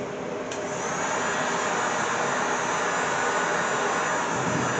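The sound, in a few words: heating sound deadening material in a VW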